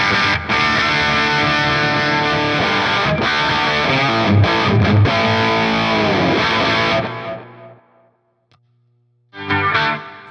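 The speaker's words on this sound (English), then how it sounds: "I'm able to change the mode on my distortion pedal from the foot switch" Loud, heavily distorted electric guitar chords ring out and cut off, then a brief burst returns after a short silence.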